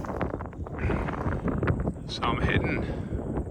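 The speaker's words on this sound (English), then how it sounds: "if you can hear me over the wind" Wind blowing steadily across an open, broad mountain saddle on the Monaro Range, roaring and buffeting the microphone throughout while someone speaks over it.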